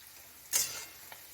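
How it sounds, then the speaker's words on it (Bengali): Slices of bread fry in a wok over low heat, with one short burst of sizzling that swells and then fades into a quiet background crackle. "যখন আমরা এই পাউরুটিটাকে ভাজবো কড়াই দিয়ে"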